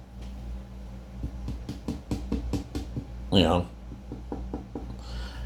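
A series of light, hollow knocks taps out an uneven rhythm on a fiberglass Boba Fett helmet, followed by a brief rustling scrape near the end.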